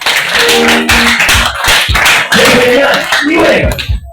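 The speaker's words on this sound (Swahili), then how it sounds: "Piga Yesu makofi." A congregation claps for Jesus at a church service, a dense burst of hand claps under loud voices and music.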